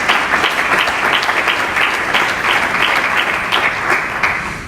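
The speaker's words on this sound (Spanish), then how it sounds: "Dale un fuerte aplauso al Señor." A church congregation gives strong, sustained applause during a sermon, a dense wash of many hands clapping at steady loudness.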